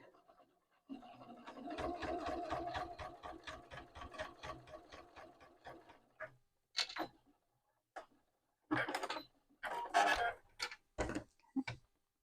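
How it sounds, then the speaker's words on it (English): A sewing machine stitches through five layers of fabric: a steady rhythmic run of needle ticks for several seconds, then short stop-start bursts of stitching, fairly faint and close with no talking. "Just take your time because you are sewing on 5 layers of fabric."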